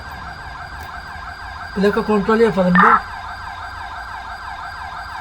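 A wailing ambulance siren in GTA V drones steadily underneath while someone speaks briefly in Turkish in the foreground.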